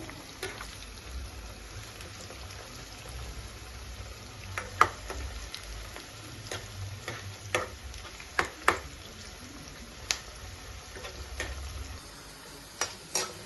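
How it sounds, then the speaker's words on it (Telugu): Bitter gourd pieces fry in oil with a soft, steady sizzle, broken by scattered sharp pops and crackles and occasional stirring, fairly faint and close with no talking. "ఈ ఆయిల్లో మొక్కలు వేసేసుకున్నామండి ఫ్రై చేసుకున్నాము బాగా దోరగా ఎర్రగా వచ్చే వరకు ఫ్రై చేసుకోవాలండి ముక్కల్ని"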